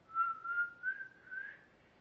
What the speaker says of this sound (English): Can you do a regular old whistle?